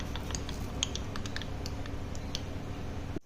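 Mustard seeds crackle and spit in hot oil as a tempering for pongal sambar, a dense, steady stream of tiny sharp pops close by over a constant low sizzle, with no talking.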